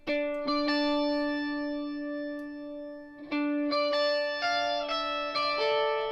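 Clean electric guitars run through a Waves amp simulator and layered for a 12-string style, ringing sustained chords that change a few times, bright and shimmering with a chorus-like sheen, no voices.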